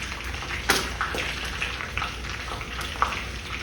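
Spices and lentils fry in a pan for mint chutney, giving a soft crackling sizzle dotted with small pops and a few sharper clicks over a few seconds, moderately close and without voices.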